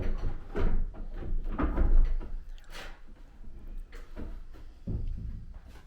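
A freshly painted kitchen cupboard door being hung and opened, giving several separate knocks, clunks and wooden bumps of handling and hinge movement at close range, with no talk.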